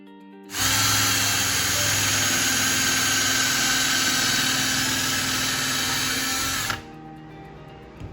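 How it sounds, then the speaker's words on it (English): A power drill boring into a cabinet door whirs loudly and steadily for about six seconds, starting and stopping abruptly, with a quieter hum left behind. "And then we're gonna drill it."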